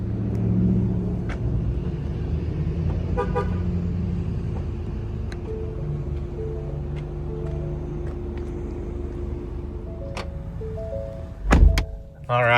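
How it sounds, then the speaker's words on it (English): Power liftgate closing on a 2025 Ford Explorer ST-Line: a steady motor whine with a soft rumble beneath, a few faint clicks and beeps along the way, ending in a short loud thud as it latches. "it is auto lift gate, and it also does come down with the button"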